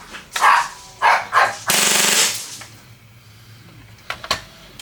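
An Action Army AAP-01 airsoft pistol with upgraded upper parts fires a quick string of sharp, close shots, including a rapid burst, followed by a couple of softer clicks.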